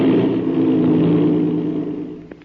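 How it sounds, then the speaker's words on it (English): Old-time radio sound effect of an airplane motor starting after its inertia starter is wound up: a loud, steady engine roar that holds and slowly fades, with a brief click near the end. "That's the way an airplane motor starts, fast as a flash."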